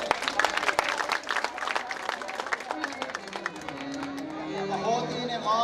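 Audience applause at a Talagang Arts Society Independence Day program: dense, sustained clapping from a crowd, fairly loud and steady, thinning toward the end as a few voices and murmurs carry through.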